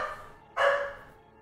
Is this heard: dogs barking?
yes